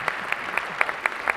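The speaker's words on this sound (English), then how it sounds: "give them a round of applause" Conference audience claps for speakers at a fireside chat on finance; a short run of distinct, fairly sparse claps with a moderate, even rhythm, no talking over it.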